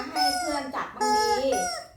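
A chicken calls close by where a child is playing, two loud drawn-out squawking calls with a rising and falling pitch, and a trace of voices underneath.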